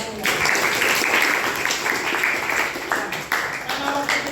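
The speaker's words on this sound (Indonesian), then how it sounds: "Sekali lagi tepuk tangan untuk kita semua" Students in a classroom give a round of applause, dense continuous clapping close by, lasting the whole short stretch with a voice briefly mixed in.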